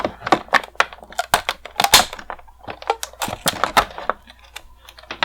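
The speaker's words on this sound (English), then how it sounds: "the traditional clear rubber bands that we have to cut before we can get him off." Sharp snips and plastic clicks from cutting clear rubber bands and handling the blister packaging of a DC Universe Classics Martian Manhunter action figure, a close, irregular run of crisp cuts and rustles with no talking.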